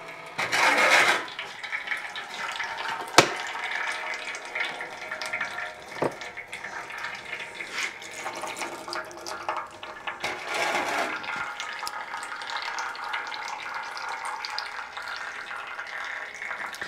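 Fluid draining from a disassembled Kawasaki F7 Bushwacker engine, a steady close trickle and splash running throughout with occasional sharp knocks and bumps, no talking.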